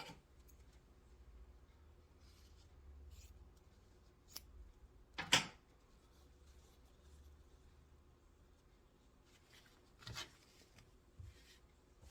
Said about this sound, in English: So I'm going to take one of those and I'm going to cut it in half.